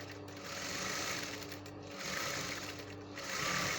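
A sewing machine runs steadily while stitching bias binding around an edge, a continuous close mechanical hum with a rapid buzzing rhythm and slight swells in speed.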